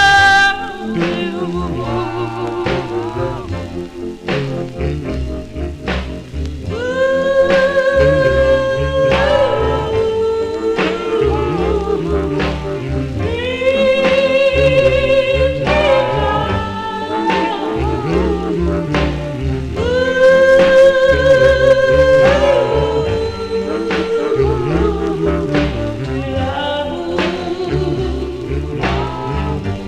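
A 1955 Vee-Jay vinyl doo-wop ballad record, playing steadily with sung vocal harmonies over a full band backing, no talking over it.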